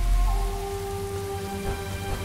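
Rain falls in the video game Onimusha 2, a steady, even hiss of downpour over low, sustained tonal hums with no voices.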